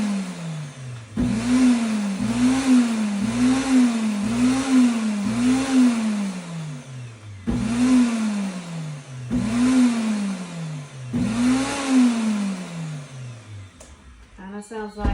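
Kitchen blender pulsing oat bran into a smooth cold oatmeal, the motor whirring up and dropping in repeated short bursts, loud and close, three runs of quick pulses.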